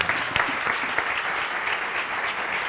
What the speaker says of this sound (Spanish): Un aplauso para los participantes.